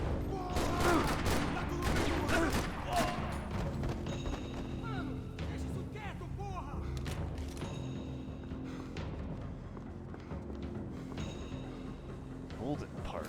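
Rapid gunfire from shootouts with enemies in Max Payne 3, with dense bursts of shots and thuds running throughout, loud and close, mixed with other game noise and voices.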